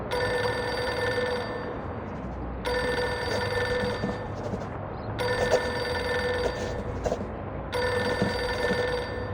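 A telephone rings in the video game Reverse: 1999, sounding in four bursts of bright, buzzing ringing separated by short pauses, with no talking.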